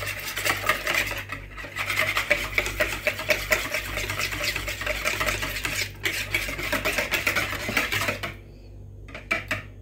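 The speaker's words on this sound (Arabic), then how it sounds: "غادي نخلطهم شويه" A spoon stirs milk and oil together in a bowl in a home kitchen, making continuous scraping and clinking against the bowl in a steady rhythm. It briefly pauses near the end.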